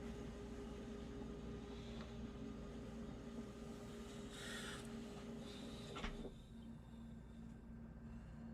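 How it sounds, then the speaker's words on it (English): A printer runs after a hard reboot with a steady mechanical drone and hum, a brief whirring rise midway and a click before the tone drops lower. "I had to basically hard reboot my printer here"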